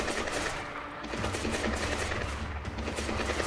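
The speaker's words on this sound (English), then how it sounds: "They're shooting at nothing." Guards firing guns in Splinter Cell Blacklist: continuous rapid automatic gunfire, loud and dense throughout with no pauses.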